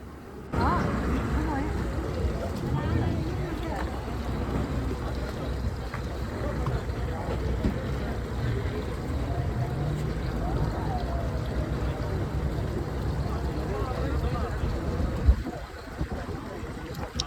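A tour boat pulls in at Coral Island, Thailand, its steady engine rumble mixing with water and wind noise for most of the stretch, with people talking over it.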